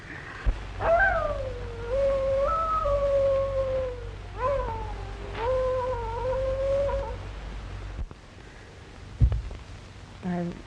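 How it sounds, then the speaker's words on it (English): Mournful howls rise and slide in long, wavering cries, three in a row, over a steady low hum in an old 1935 western film, and the track ends with a brief thump and faint noise. "I wish you'd stop that awful howling."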